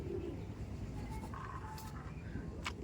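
Soft pigeon cooing, a low murmuring call, rises faintly over a quiet background with brief chirps and distant noise.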